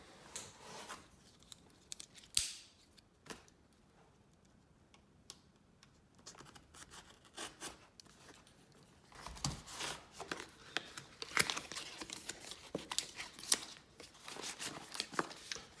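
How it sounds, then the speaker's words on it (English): Product box packaging being torn and opened during an unboxing, with quiet crinkly rips, scratches and sharp clicks of cardboard and plastic, sparse at first then busier and more rustling, close and fairly soft. "here is the box, the packaging. Let's open this bad boy up."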